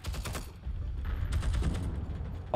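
Thompson submachine gun fired in a World War II online shooter match, Germany versus USA on defence: several rapid bursts of automatic fire with clattering mechanical noise between them, close and loud, ending in a sharp report.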